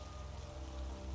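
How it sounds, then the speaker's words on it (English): Storm rain pours steadily as a sound effect, a dense, continuous wash of rainfall on surfaces with a low rumble beneath, no voices. "Silence spread through the bus, broken only by the storm."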